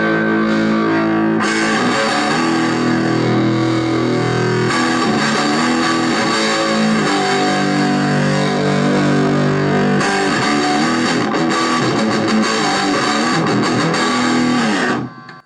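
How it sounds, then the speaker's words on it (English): An electric guitar plays through the overdrive channel of a Beta Aivin BM-6 portable practice amp. Loud, fuzzy distorted chords and riffs ring out continuously and alone, then cut off abruptly at the end. "I think most of us would agree that's not the best distortion you're ever likely to hear, but it's perfectly adequate for a little practice amp of this kind."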